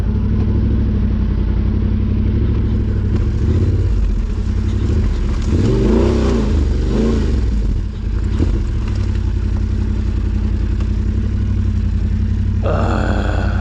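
A dirt bike engine revs loud and close on a singletrack trail, a continuous rough mid-pitched roar that swells and surges around the middle as the throttle opens, then shifts tone near the end.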